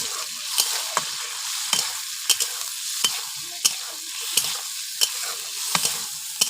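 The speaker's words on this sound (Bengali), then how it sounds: "এই দেখুন লাল লাল করে ভেজে নেব" Prawns fry in oil with a steady close sizzle, punctuated by regular clicks and scrapes of a spatula stirring them roughly every half second to second.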